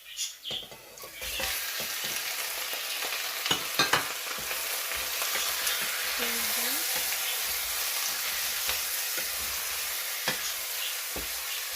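Chicken pieces sizzle and fry as they go into a pot for chicken soup, a steady crackling hiss with occasional clatters and stirring knocks close by.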